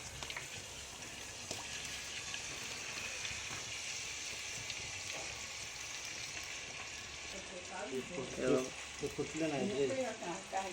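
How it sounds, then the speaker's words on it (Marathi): Steady hiss and crackle of spices tempering in hot oil in a pot on a wood-fired clay stove outdoors, with louder sputtering bursts toward the end and a voice talking faintly underneath. "एवढं सगळं आपल्याला आता फोडण्यात देऊचा"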